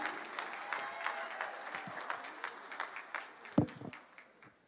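An audience at an 8th grade graduation ceremony claps in a moderate, scattered round of applause with a few louder bumps, fading slightly toward the end.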